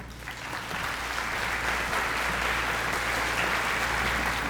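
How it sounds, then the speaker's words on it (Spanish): An audience claps steadily for a speaker, a dense, sustained round of applause that builds slightly and holds loud throughout, with no talking over it. "Para aplauso para Marlene."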